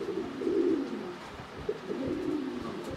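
Big-size Lahori pigeons coo in low rolling phrases, two soft swells of cooing close by over a quiet room background, with no talking.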